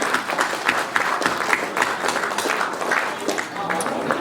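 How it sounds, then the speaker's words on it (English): A room of guests at a regimental association's annual get-together gives a round of applause for the committee and chairman, uneven clapping rising and falling with a few voices mixed in. "So a round of applause for our committee and our Chairman."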